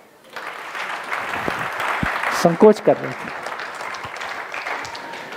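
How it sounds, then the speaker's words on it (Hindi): An audience at a spiritual camp session in Nathdwara claps steadily, a dense patter running under a man's continuous speech for most of the stretch. "ताली बजा सकते हैं।"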